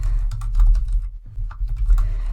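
Computer keyboard typing at close range: a steady run of light, quick keystrokes that briefly pauses midway and then carries on, heard alone with no voices.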